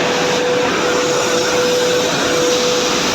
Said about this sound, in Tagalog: mainit ang temperatura dito sa may dryer na ito dahil may supply po itong gas.